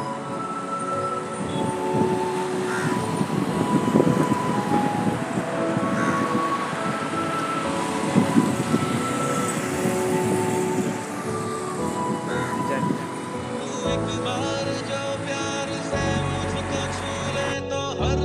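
A train runs continuously with a loud, rumbling, clattering roar that shifts near the end, while voices may be heard faintly underneath.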